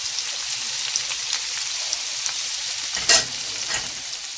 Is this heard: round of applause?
no